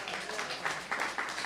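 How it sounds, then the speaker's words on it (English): Audience applause at a live comedy variety show, a dense continuous patter of many hands clapping at moderate volume with slight swells, heard alone for a short burst. "I want to hear an applause for that"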